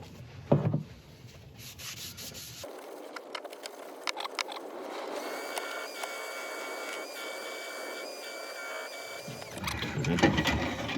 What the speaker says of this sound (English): Just going to scrape the very edge.